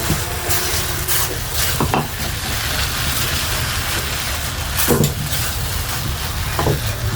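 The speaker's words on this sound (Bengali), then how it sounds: "চিনি দিয়ে ভালোভাবে আবারও মিশিয়ে নিচ্ছি।" Semolina and sugar are stirred in a pan, giving a steady, close scraping and rustling with a faint sizzle underneath and a few sharper scrapes spread through, with no talking.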